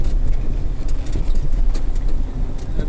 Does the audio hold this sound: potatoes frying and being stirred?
no